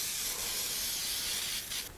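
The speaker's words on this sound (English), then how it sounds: "I'm going to lightly spray this with some cooking spray" Cooking spray containing flour hisses steadily into a 9 by 13 baking dish in one continuous close burst, briefly pausing and then resuming near the end.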